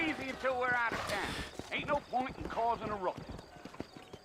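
Horses clop along a trail out of town in the video game Red Dead Redemption, hooves drumming steadily under loud, overlapping talk from people speaking throughout.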